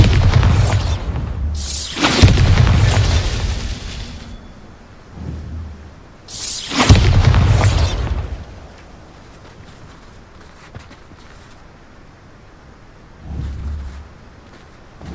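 Repeated Bombarda spell blasts in Hogwarts Legacy, with two big booming explosions a few seconds apart, a smaller one between and a fainter one near the end, each rumbling off into low noise, no talk.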